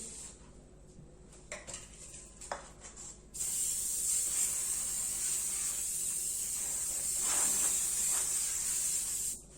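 Cooking spray hisses steadily across a 36 by 26 cm rectangular baking dish, a long continuous spray lasting several seconds, preceded by a few light clinks of dishes and handling.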